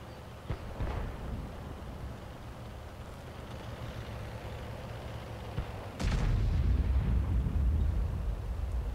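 Artillery fire in the tank battle game World of Tanks: a sharp distant blast early on, then a sudden loud, close boom that turns into a heavy, sustained low rumble, over a constant background of engine-like noise.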